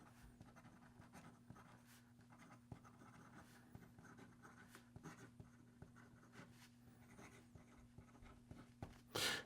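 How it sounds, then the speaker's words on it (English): Gold-nib fountain pen writing on paper, a faint, close scratching of nib strokes in uneven rhythm over a low steady hum, with no voice. "And here we go with the rest of the writing sample."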